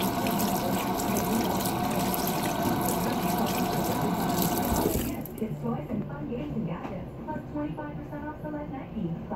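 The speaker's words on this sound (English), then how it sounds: "Washing my hands" Water runs steadily from a tap while hands are washed, loud and close for about five seconds, then shuts off, leaving a quieter drippy room tone with faint movement.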